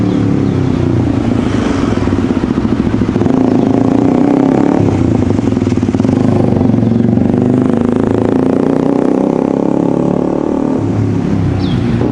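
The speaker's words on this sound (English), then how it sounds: "here comes another bike" A motorbike passes along a riverside route in Kuala Lumpur, Malaysia. A loud, steady engine drone holds throughout with rattling clatter and no talk.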